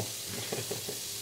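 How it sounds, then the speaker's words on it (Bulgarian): 175 grams of raw chicken meat fries in a pan, a steady close sizzle with a few faint stirring scrapes under it, and no talking. "175 грама сурово пилешко месо се готви на тигана."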